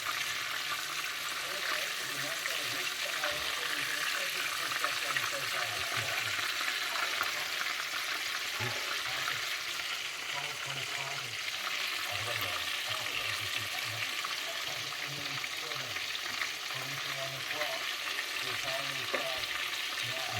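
Chicken pieces fry in hot oil, giving a steady, dense sizzle and crackle that runs unbroken from start to finish, close and moderately loud, with faint stirring noises and no voices.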